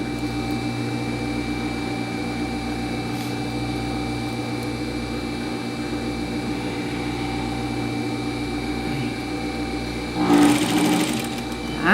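A sewing machine runs in a steady hum while stitching the gathered sleeve of a dress, a continuous close drone that ends in a brief louder rustle of fabric.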